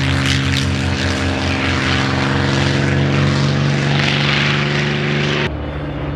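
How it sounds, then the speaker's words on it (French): A propeller-driven P-51 Mustang warbird flying at the La Ferté-Alais air show, a loud, steady engine drone with a constant pitch that cuts off abruptly near the end. "Le P-51 Mustang."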